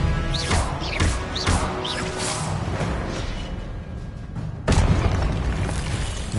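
Spell impacts from Expelliarmus casts in a Hogwarts video game land as booming, crashing bursts, loud and close over a dense game soundscape, with a sharp new hit near the end.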